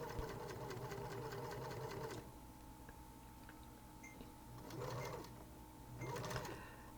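Sewing machine stitching stretchy yoga pants fabric just under the presser foot: a steady, close mechanical whir for two seconds, then quieter pauses broken by two more short bursts of running stitches.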